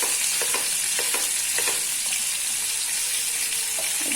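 Fish frying in hot oil in a home kitchen for a crispy masala fish fry, a steady, loud, close sizzle that hisses continuously throughout with faint scraping clicks.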